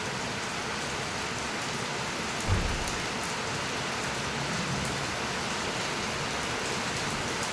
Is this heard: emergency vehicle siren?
no